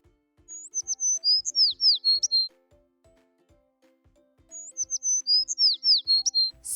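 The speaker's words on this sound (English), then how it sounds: "sparrow," A sparrow chirps in two bursts of rapid, high, twittering notes, each run lasting about two seconds with a pause between, close and clear with no voices.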